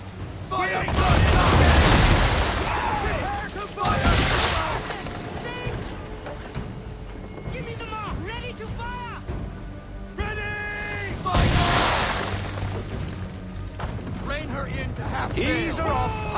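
Ship cannons firing in Assassin's Creed 3, several heavy booming volleys spread across the stretch, with shouting crew voices and ocean ambience between the blasts.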